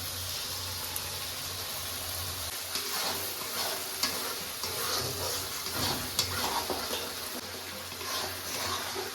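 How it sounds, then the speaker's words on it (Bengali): Turmeric and spices fry in a pan with a splash of spice-rinsing water, giving a steady close hiss and sizzle with occasional stirring scrapes and no talk. "এবার একটু হলুদ দিয়ে দেবো, মশলা ধোয়া জলটা আমি একটু দিয়ে দিচ্ছি যাতে মশলাটা না পুড়ে যায়"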